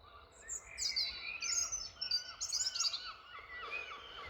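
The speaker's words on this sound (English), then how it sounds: "It's these birds." Several birds chirp and sing loudly in overlapping bursts of high, bright calls, continuous throughout with no voices.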